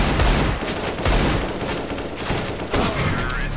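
Gunfire in CS:GO, a dense continuous fusillade of close, loud shots and rattling bursts with several sharper thuds, filling the whole stretch with no talk.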